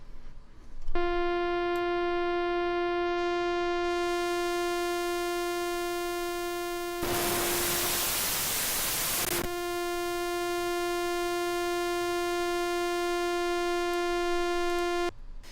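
A steady buzzy FM synthesizer saw wave with self-modulation and rich harmonics drones on, cut off midway by a burst of hissing noise before the buzzing tone resumes.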